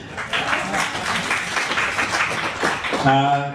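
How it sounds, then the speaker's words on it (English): A round of audience applause at a feng shui lecture in an art gallery: dense, even clapping for about three seconds before a voice resumes talking. "So it's time for a round of applause."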